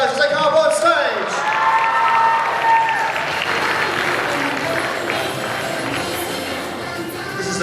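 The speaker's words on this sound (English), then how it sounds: "Give the round of applause, guys, as they come up on stage." A convention audience at a Gold Coast cosplay contest applauds and cheers as cosplayers walk on stage. The clapping is dense and sustained, with scattered whoops and a voice speaking over the crowd.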